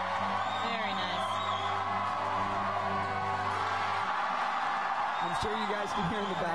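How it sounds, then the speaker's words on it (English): A crowd roaring and whooping at a USA Climbing National Cup bouldering competition at Dogpatch Boulders, a loud sustained cheer filling the space under a commentator's voice. "the crowd is just roaring"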